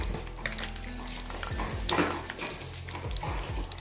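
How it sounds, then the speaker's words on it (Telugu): Dried red chillies dropped into hot oil for a tempering of onion-chilli paste, a soft sizzle with a few clinks and scrapes of a spoon stirring in the pan, close and unaccompanied by talk. "ఇది ఎండుమిర్చి వేసుకుందాం."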